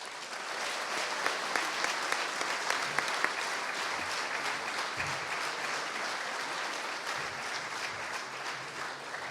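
Steady, sustained applause from a crowd at the St. Louis Sports Hall of Fame induction, welcoming Niele Ivey, a dense even roar of clapping with a few sharp individual claps, continuing throughout.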